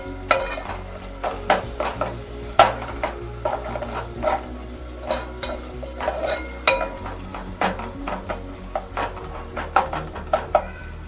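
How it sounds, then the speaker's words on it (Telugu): Ginger garlic paste frying in a pan with curry leaves, a constant sizzle under repeated scraping and stirring strokes of a spoon against the pan, close and fairly loud, no speech. "అల్లం వెల్లుల్లి పేస్ట్ ఇది కొంచెం పచ్చివాసన అయ్యే వరకు ఫ్రై చేయాలి"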